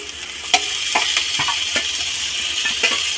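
Tomatoes and chillies sizzle steadily in a pan while being cooked for a Pangas fish curry. Repeated scraping stirs and light metallic clinks of the spatula come through up close.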